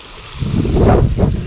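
Water rushes and gurgles into an irrigation channel in a farm field, loud and close in gusty wind with rain starting, swelling over about a second with no talking.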